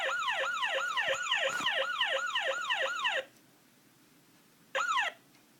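Siren 3 on a 2005 Hess toy truck sounds a rapid electronic whooping wail for about three seconds, stops, then gives one short burst again.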